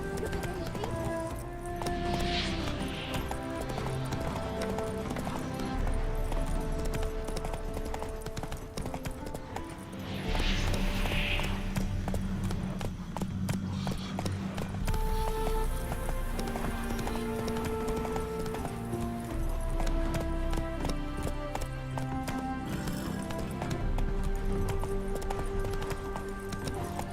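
Horse hooves clip-clop steadily during a ride in the video game The Witcher 3: Wild Hunt, with a continuous rhythmic trot under game music and ambience, and faint game character speech in places.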